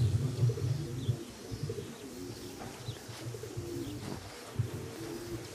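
Racing pigeons arrive at a loft during a race, with soft low cooing and a few faint chirps close by over a quiet outdoor background.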